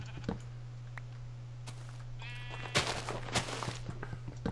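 A sheep in the Minecraft video game gives a short wavering bleat partway through, heard over a steady low hum along with some keyboard clicks and brief game noises.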